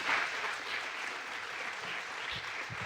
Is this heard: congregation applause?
yes